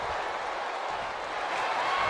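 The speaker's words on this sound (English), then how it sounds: "the crowd has Duke Dyer pumped up." A wrestling crowd cheers and applauds in a steady, dense roar that holds at an even level from start to finish, with no clear peaks or breaks.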